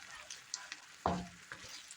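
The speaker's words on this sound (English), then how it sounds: "We're going to go ahead and add our special sauce and minced garlic and stir that in." Special sauce and minced garlic stirred into peppers frying in a pan for pepper steak, a soft sizzle with scraping stir strokes and one sharper clatter midway, fairly quiet and close.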